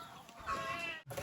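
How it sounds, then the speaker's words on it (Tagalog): Chicks on a farm give faint peeping and clucking calls over a short, quiet stretch, heard from a close distance with a brief pause near the end. "Mga sisiw."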